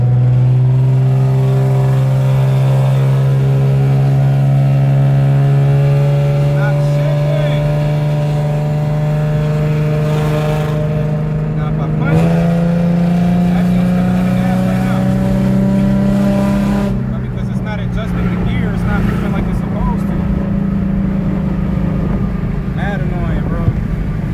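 A lowered Infiniti G35 sedan with transmission trouble slipping in 4th gear, heard from inside as a loud sustained engine drone whose pitch rises, flares and wavers unevenly as the revs climb without steady pull.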